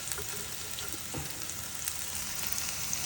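Cauliflower pieces fry in hot oil with a steady, crackling sizzle close by, and no one speaks over it.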